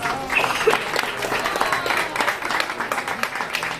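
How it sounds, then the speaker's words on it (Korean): A crowd bursts into sustained applause and cheering after an elephant finishes a painting, a dense, continuous wash of many hands clapping with scattered voices mixed in. "멋진 그림에 사람들은 박수를 치며 환호해"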